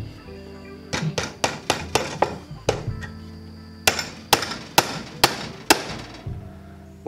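The hammer poll of a hatchet drives roofing nails into a 2x6, giving two quick bursts of sharp, ringing blows, about six in each, loud and close with a pause between.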